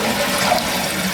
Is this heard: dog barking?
no